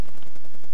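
A brief, loud burst of rapid gunfire in Call of Duty: Black Ops 3, shots rattling together in quick succession.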